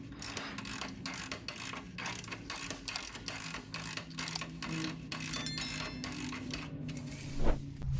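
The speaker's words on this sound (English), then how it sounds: "I'll grab a ratcheting wrench and hold it in place" A ratcheting wrench clicks in fast, steady runs while loosening a 19 mm nut on the control arm of a Kia Optima or Hyundai with a 2.0L four-cylinder engine, with a metallic clunk near the end. The sound is close, with no talking.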